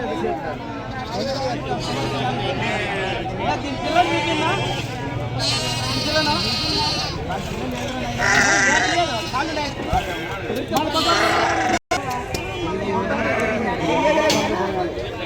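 Repeated sheep bleats ring out over a busy livestock market hubbub in Pebbair, Telangana, with people talking and chattering throughout.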